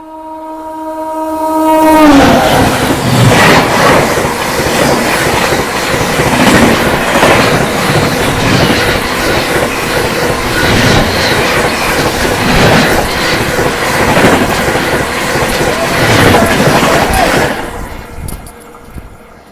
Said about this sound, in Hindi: और ये आ गई है 12424 नई दिल्ली डिब्रूगढ़ राजधानी एक्सप्रेस ओवरटेक करने हमारी ट्रेन को।